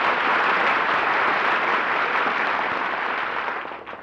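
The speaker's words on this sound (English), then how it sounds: "was all that applause for me?" A studio audience at a live radio comedy broadcast bursts into sustained, dense applause that holds steady and loud before tapering off near the end.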